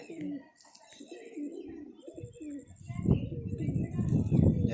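Domestic pigeons coo in soft, repeated low calls close by, mixed with a few chirps, while people talk over and between them.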